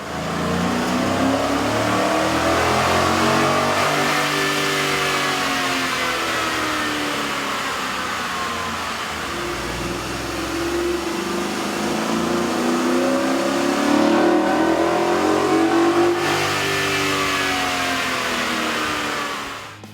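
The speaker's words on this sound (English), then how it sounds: "With the air intake installed, we ran the vehicle on the dyno to test the sound comparison versus the stock intake" A 2011–2012 Ford F150 with the 5.0L engine and a K&N air intake revs loudly on a dyno, its tone rising and falling in long sweeping pulls, close and continuous, with no voices.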